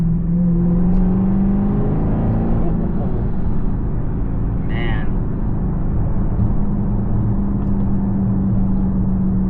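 A 2023 Dodge Charger Hellcat engine running close by, a heavy, loud, steady rumble with low droning tones that shift slightly in pitch, and a brief higher chirp near the middle.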